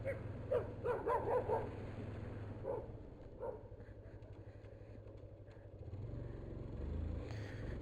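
A small female dog yips and barks in a few quick bursts early on, fairly close, over a steady low hum and ongoing talk in a room; the barking fades into background murmur afterward.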